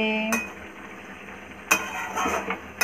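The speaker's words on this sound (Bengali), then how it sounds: "আমি ঢাকনিটা তুলে একবার নাড়াচাড়া করে নিচ্ছি" A pot of pui shak vegetable curry being stirred after the lid is lifted, with a few clinks and scrapes of utensil against metal over a faint bubbling background.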